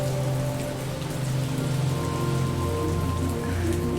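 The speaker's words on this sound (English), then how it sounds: "That is really loud rain." Heavy, close rain pours down without pause in a video game, a dense and loud steady hiss with no voices over it.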